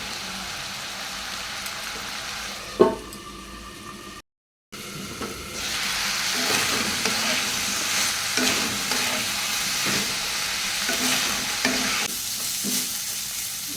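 Vegetables for an ivy gourd curry fry in an uncovered pan, a steady close sizzle with stirring scrapes throughout and one brief silent gap early on.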